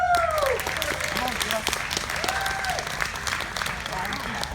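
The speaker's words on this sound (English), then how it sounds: "Give Kathy a round of applause." Audience applause at a Six Flags New England presentation, a moderate wash of clapping heard from a distance under speech.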